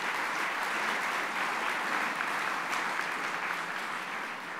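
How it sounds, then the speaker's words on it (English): An audience at a University of Arkansas Towers event claps in a dense, sustained round of applause that holds steady and tapers slightly at the end. "Would you give them a round of applause?"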